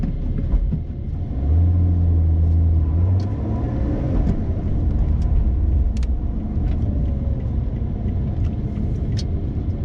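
A 2020 Lotus Evora GT sports car driving on local streets in Queens, heard from inside as a steady, loud low engine rumble with a rising and falling tone as it accelerates.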